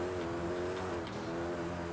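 A Koenigsegg engine at speed while racing in Forza Horizon 5, a steady, loud high-revving drone with a sustained tonal whine, alone and close.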